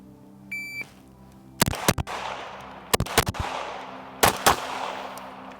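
Gunshots from a Sig P320 pistol fitted with a Flux Raider PCC conversion at a timed shooting drill: three tight bursts of two or three sharp, loud reports each, spaced about a second apart, with a faint timer beep beforehand.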